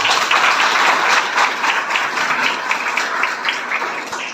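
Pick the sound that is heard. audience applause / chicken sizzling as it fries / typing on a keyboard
audience applause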